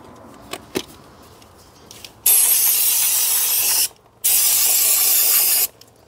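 A couple of light taps, then two long, loud bursts of brake cleaner aerosol spray hissing nearby on car parts with a brief gap between them.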